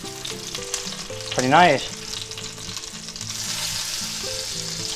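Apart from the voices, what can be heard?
cheesy chicken ranch patties frying in a pan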